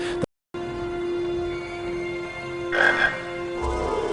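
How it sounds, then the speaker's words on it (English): A chocolate frog in the Harry Potter and the Chamber of Secrets video game croaks in a sustained, resonant tone after a brief gap, over game background sound, with no speech. "A chocolate frog."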